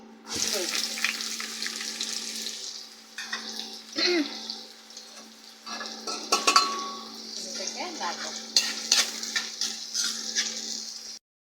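Onions sizzle in hot oil in a heated wok-style kadai, a crackling frying hiss that swells and settles, with occasional utensil clinks and stirring sounds up close.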